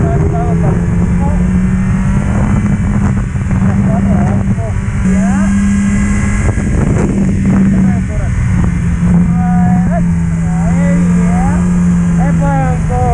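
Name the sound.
motorcycle engine riding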